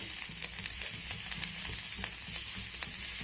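Steady sizzling of vegetables frying with turmeric powder in a pan, with repeated scraping clicks as they are stirred, close and continuous with no talking.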